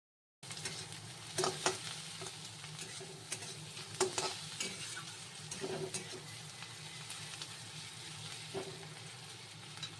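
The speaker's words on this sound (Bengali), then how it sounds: "হাতে একটু চিনি নিয়ে নিয়েছি, এই তেলের মধ্যে দিয়ে দিলাম" Sugar dropped into hot oil for a chicken dish hisses in a quiet, even sizzle, with frequent light taps and scrapes of stirring up close.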